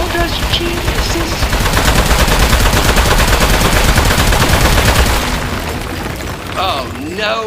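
Rapid gunfire in the Aperture Desk Job video game, a dense loud stream of shots lasting about five seconds, then fading as a synthetic voice briefly speaks.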